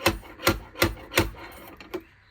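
Four evenly spaced metallic thuds from a slide hammer pulling out crash-damaged body metal on an Audi A4 Avant, followed by a couple of softer knocks, close and sharp with quiet gaps between.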